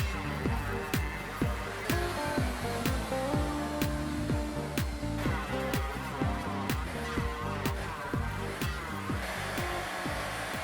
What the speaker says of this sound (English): if you haven't done a lot of template routing on a router table, it can be a little bit intimidating